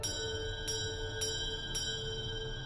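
A hand bell is struck three times at an even pace, and each clear metallic ring hangs on and overlaps the next in a steady, sustained shimmer.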